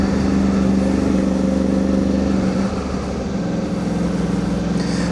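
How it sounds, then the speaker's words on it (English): A Suzuki V-Strom 800DE motorcycle engine with a DNA air filter drones steadily at idle-to-cruise, with a throaty exhaust rumble and constant hum, loud and close, no one speaking. "There is a bit more prominent noise from the exhaust."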